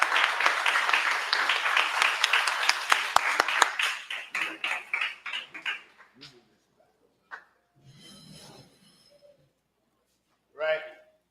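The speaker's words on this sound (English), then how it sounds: "I just want to clap it up for the parents again." An audience at an end-of-year institute celebration claps for the parents, a dense burst of applause that thins into scattered claps and fades, followed by quiet murmuring and a brief voice.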